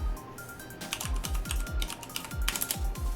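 Fingers type on a computer keyboard in quick irregular bursts of soft clicks and taps, close and fairly quiet, with short pauses between runs of keystrokes.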